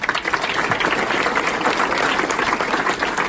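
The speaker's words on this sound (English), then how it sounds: "Give him a round of applause, please" Dense, steady applause from an audience at an Honor Flight veterans' event, honoring a guest: loud, continuous clapping from many hands, filling the room with no pause.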